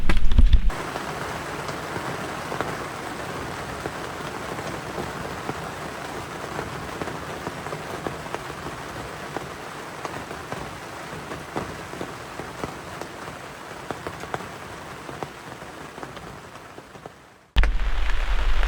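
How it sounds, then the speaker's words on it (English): Steady rain patters on a surface, a dense continuous hiss with scattered drops, gradually softening before cutting off abruptly near the end. "Unfortunately, the rain has not held up yet."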